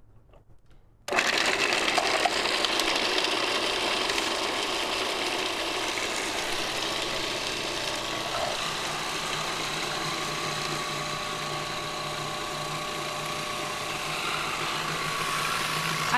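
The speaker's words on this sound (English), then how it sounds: "Well, we use the food processor, but it's going to be fast." A food processor whirs at high speed blending cashew-based vegan icing ingredients, starting abruptly after a brief quiet moment and running loud and steady to the end.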